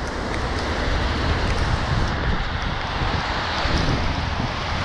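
Wind buffets the microphone of a runner during a London half marathon training run on a wet, puddled route, a loud, steady, unbroken roar that fills the whole clip without voices.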